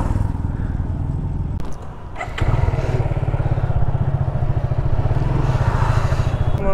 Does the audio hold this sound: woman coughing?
no